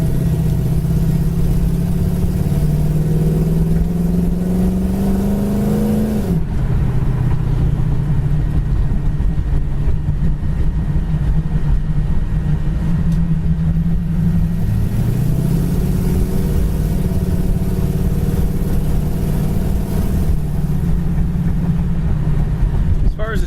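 A 1968 Chevy Camaro driving on the road, a loud steady interior engine drone that rises in pitch through gears and drops at shifts, with occasional talk over it.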